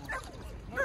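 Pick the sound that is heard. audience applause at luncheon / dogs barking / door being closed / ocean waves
dogs barking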